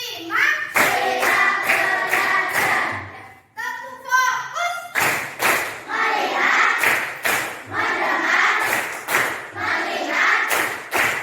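A classroom of children claps in a rhythm game, sharp group claps in rapid, regular runs broken by a short pause, with their chanting voices loud and close throughout.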